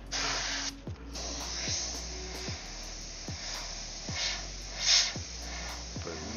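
An airbrush sprays paint onto a hockey helmet with a steady, close hiss that runs the whole time, broken by short regular pulses of the trigger and a quieter hum underneath.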